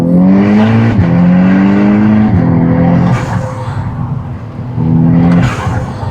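A Volkswagen Golf R on Michelin Pilot tyres accelerates hard, its loud close engine climbing through gears with rising revs and sharp shift drops, a lull, then another surge.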